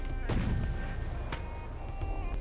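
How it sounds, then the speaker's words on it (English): A railgun firing a heavy head shell in From The Depths, a loud sharp blast followed by a few more distant impact cracks over a steady low rumble. "This railgun would fire this shell with a muzzle velocity of 1781 meters per second"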